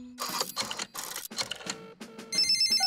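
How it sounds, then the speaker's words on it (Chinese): A cartoon telephone rings in a children's animated show: a series of bright, repeated electronic ring bursts with short gaps, ending in a sustained, higher buzzing ring tone, heard alone with no talking. "这里是狗爷爷的维修服务电话。"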